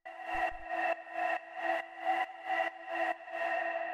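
A sustained synth pad chord for industrial techno pulses rhythmically in regular chopped swells, bright layered tones with a soft hiss, no voices.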